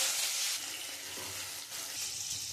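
Potato and eggplant hit hot oil with black cumin seeds in a wok, producing a steady, close, bright sizzle that continues throughout with no talking.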